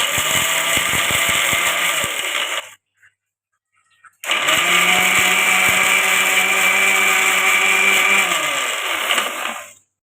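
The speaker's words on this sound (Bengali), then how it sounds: "তো দেখো এবার মিক্সিটা চালিয়ে দেবো।" A kitchen mixer grinder runs loud and steady grinding a spice paste for a paneer dish, whirring for a few seconds, then briefly stopping and restarting for another long burst before winding down.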